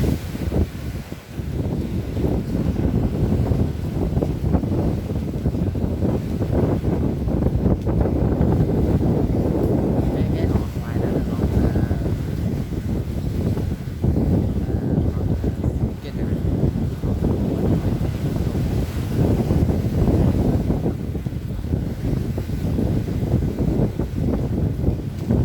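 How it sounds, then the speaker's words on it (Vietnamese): Strong wind at the seaside buffets the microphone continuously for nearly half a minute, a loud, rough roar with gusty surges and no break, while a voice speaks under it. "Gió quá."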